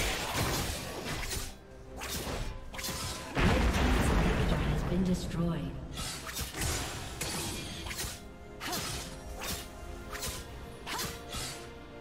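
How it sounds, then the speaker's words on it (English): A League of Legends turret being destroyed, heard as a heavy crash and rumble over busy game effects with whooshes and impacts, loud and continuous throughout. "Team's turret has been destroyed."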